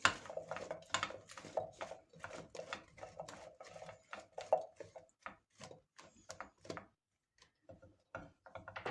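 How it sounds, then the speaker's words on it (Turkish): Brussels sprouts stirred in oil in a pan: a busy run of quick scraping and clattering strokes, close and fairly loud, slowing into sparser knocks toward the end. "Şöyle hepsini karıştırıyorum."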